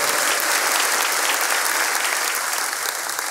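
A church congregation breaks into loud, dense applause, the sustained clapping filling the room evenly from start to finish with no talk over it.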